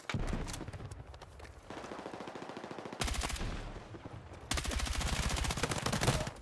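Automatic gunfire in Battlefield 6, several long bursts of rapid shots separated by brief lulls, loud and close, with sharp onsets where new bursts kick in; no voices.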